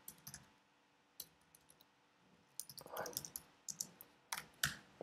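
Soft, irregular clicks of typing on a computer keyboard come in quick clusters with brief pauses, faint and close, with no voice over them.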